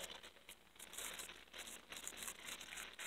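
Crinkling and tearing of plastic and tape as a nicely taped package holding stained glass pendants is opened, close and fairly quiet, in uneven bursts over a few seconds with no talking.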